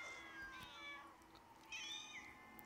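Several cats meow in the video game Minecraft Story Mode, Episode 6, with thin, drawn-out mews, faint over a low steady background hum.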